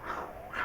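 A voices a lion imitation that comes out more like a dog: two short, loud growling yelps close to the listener, with a slight dip between them.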